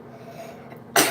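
A single sharp sneeze bursts out close by at the very end, after a brief stretch of quiet room tone.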